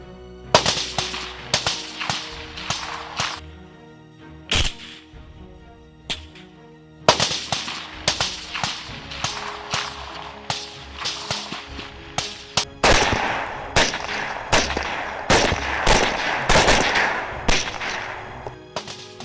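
High-powered 6.5 Creedmoor rifles with thermal sights fire during a night wild boar hunt, loud sharp shots ringing out in rapid irregular bursts, later running into a dense, nearly continuous volley.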